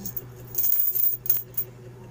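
Coins clink and rattle as they drop into a piggy bank, a short burst of small metallic hits close by.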